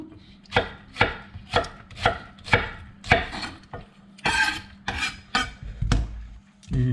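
A knife slicing onion on a cutting board, about a dozen crisp close cuts in a fairly even rhythm, each ending in a dull knock on the board.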